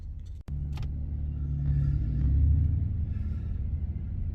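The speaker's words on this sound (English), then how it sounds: "We're sitting in this traffic jam" Cars sit idling in a traffic jam, a low steady engine rumble that swells slightly and then settles, heard from inside a vehicle after a brief click.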